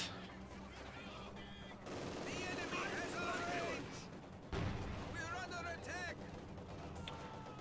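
MG42 machine gun fire in Company of Heroes 2, a World War II strategy game, sounding as mid-distance bursts and sustained rattling amid other battlefield gunfire, with someone talking over it.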